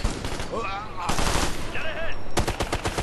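An unmanned turret machine gun fires rapid bursts in Ghost Recon: Future Soldier, with loud staccato gunfire and whining game effects over about three seconds.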